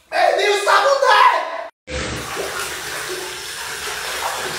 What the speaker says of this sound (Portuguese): Só que aí eu tô tomando banho na água preta e cheia de cabelo